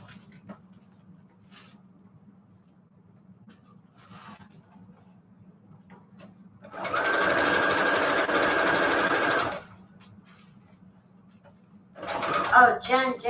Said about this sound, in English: Let's get this sewing.